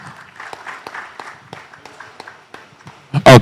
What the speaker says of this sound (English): A round of applause to Dan.